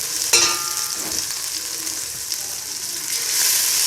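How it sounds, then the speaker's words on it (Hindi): Garlic paste sizzles and spits in hot ghee at the start of a restaurant-style Chicken Manchurian, a steady bright frying hiss with a sharp crackle near the beginning and light stirring, close and continuous. "मैंने इसमें घी डाला है और मैंने इसमें अब गार्लिक पेस्ट डाली है"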